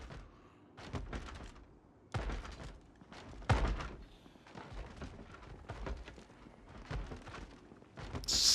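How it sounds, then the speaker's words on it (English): Zombies banging on a door in Project Zomboid, a string of heavy dull thuds and slams at irregular intervals, fairly faint and distant, with some louder hits standing out. "Sounds like a door's about ready to come down."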